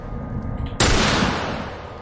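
Single loud gunshot fired in the video game The Last of Us, a sharp sudden blast after a low rumbling background, followed by a long decaying echo tail.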